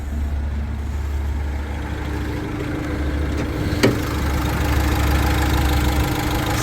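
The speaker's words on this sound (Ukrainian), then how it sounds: "чиста робота двигуна" A van engine idles steadily with a low, even rumble and a faint mechanical rattle, close by, with one brief click partway through.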